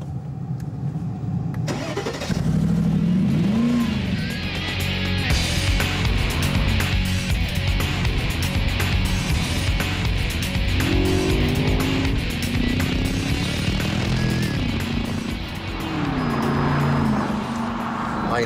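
Mercedes-Benz SLR McLaren with a 626 horsepower supercharged V8 accelerating on a track: a loud, sustained engine roar with rising and falling pitch sweeps as it climbs through the gears, steady and close throughout.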